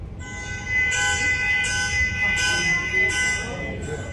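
A recorded car alarm plays through a speaker, a steady electronic tone broken by a repeating pulsing chirp about every seven tenths of a second, moderately loud with faint room noise beneath.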